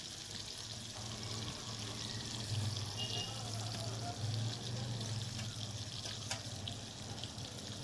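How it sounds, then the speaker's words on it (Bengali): Ginger and cumin paste fry in oil in a pan, a soft continuous hiss with faint low humming underneath, quiet and steady throughout. "সব কিছু মশলা ভালো করে তেলের মধ্যে ভেজে নেব।"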